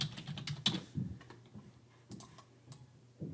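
Irregular light clicks of typing on a computer keyboard while setting up a Canva template, soft keystrokes in short bursts with pauses between them, close and fairly quiet.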